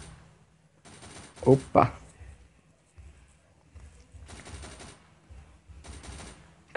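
Bursts of rapid automatic gunfire from the zombie shooter game Unkilled, several sustained volleys separated by pauses, with a voice briefly exclaiming over the shots.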